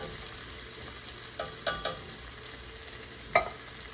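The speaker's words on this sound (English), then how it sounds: "I'm going to add the tomato sauce now" Crawfish etouffee with tomato sauce being stirred in a cooking pot, giving a soft steady bubbling background with a few short scraping and clinking spoon strokes near the middle and one sharper knock late on, with no talking.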